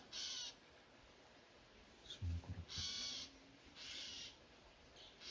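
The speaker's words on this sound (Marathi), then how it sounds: "काळी चिमणी पा कशी ओरडते." A black bird gives short, high, scratchy calls in several separate bursts, faint and somewhat distant over quiet outdoor background noise.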